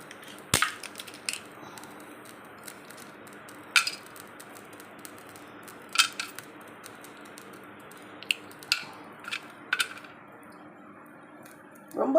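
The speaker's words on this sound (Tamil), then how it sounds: "இந்த கல் வச்சு தான் கொஞ்சம் உடச்சி எடுத்துக்கிறேன் நான்" Cinnamon bark being broken with a stone in a kitchen, a series of sharp, isolated cracks and knocks spaced a second or two apart over a quiet background.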